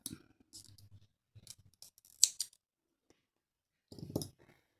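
Scissors snip crochet yarn on an amigurumi pumpkin in a few sharp close clicks and small rustles separated by quiet gaps.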